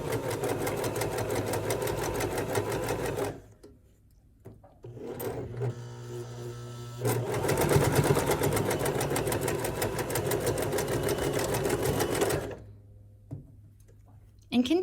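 A sewing machine stitches through pieced quilt triangles, its rapid even needle chatter running in two long bursts with a short pause and a break near the end, close and loud with no talking.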